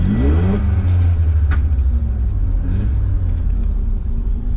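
Mazda RX-7 FC with a rotary engine, revving hard toward redline in a loud, close, sustained roar that rises then holds, with no backfiring.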